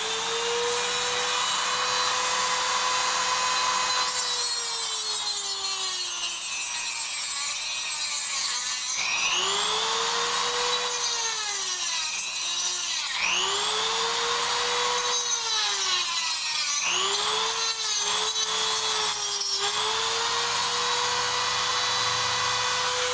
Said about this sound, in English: I'm going to take my Dremel tool with the little cutting wheel, and I'm going to cut it off